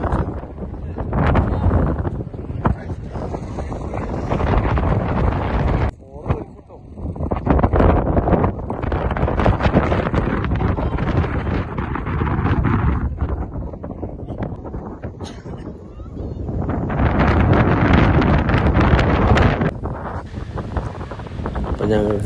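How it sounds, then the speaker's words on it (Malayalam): Strong wind gusts across the hilltops at Vagamon and buffets the microphone with loud, continuous rumbling roar, easing briefly a couple of times before rising again. "നല്ല കാറ്റുണ്ട് ഇവിടെ"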